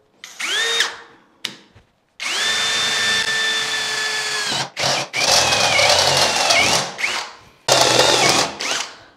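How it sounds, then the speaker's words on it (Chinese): A power drill boring holes into the side of a household telescopic ladder, several loud close whining bursts that start, hold a steady pitch and stop, separated by short pauses and clicks, with no talk. "我还要在梯子上打两个孔"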